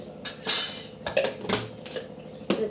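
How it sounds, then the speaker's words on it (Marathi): A lid goes onto a cooking pot of masala brinjal curry, making a few sharp metallic clanks and clinks in an otherwise quiet kitchen. "आपण त्याच्यावर त्याचं झाकण ठेवून देऊ"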